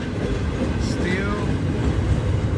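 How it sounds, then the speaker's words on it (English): Long freight train with steel loads and containers rolling past steadily, a dense continuous rumble with rail noise throughout, while people talk over it. "That never-ending train."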